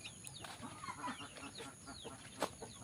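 Village chickens cluck softly at a distance in short scattered calls, faint and low over quiet background noise.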